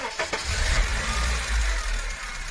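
A freshly rebuilt car engine, overhauled for oil burning, cranks and catches, settling into a steady low rumble close by, with a few sharp mechanical clicks in the first moments and no talking.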